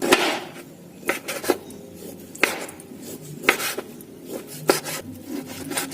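A knife slices raw, deboned chicken thinly into small pieces on a board: sharp, irregular cutting knocks and scrapes, close and clear, with no talk.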